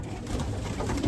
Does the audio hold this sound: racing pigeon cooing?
yes